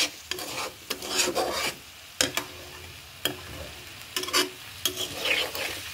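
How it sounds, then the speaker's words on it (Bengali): Potatoes tossed with spices in a pan during the cooking of a bhetki fish curry: rough, rasping spatula strokes scrape back and forth in bursts over a light sizzle, close by and fairly quiet. "এখন আমি আলুগুলো দিয়ে দেবো। দিয়ে আলুর সাথে মশলা আবার আমি কষাবো।"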